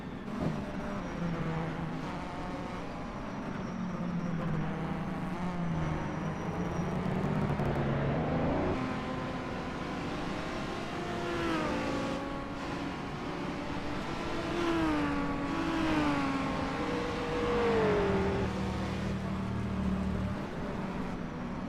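Historic racing cars at speed on the Longford circuit in a two-hour race, one engine after another rising and falling in pitch as the cars pass, loud and continuous, with no talk.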